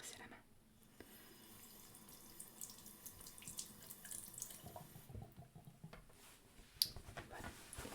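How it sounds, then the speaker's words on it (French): A hand being rinsed under a running bathroom tap, water streaming and splashing steadily into the sink at close range, with a brief pause and a small clink near the end. "Attendez, je vais me rincer la main."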